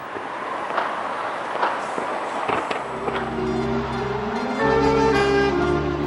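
Loud booming bursts and crackles of a New Year fireworks display at Taipei 101 pop repeatedly over a steady crowd roar, with music and harmonic tones swelling near the end.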